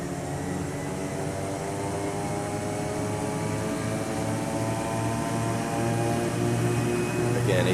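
Twin turboprop engines of a King Air 200 running steadily at 1800 RPM during a primary governor test, a loud continuous droning hum with layered tonal whine that swells slightly toward the end.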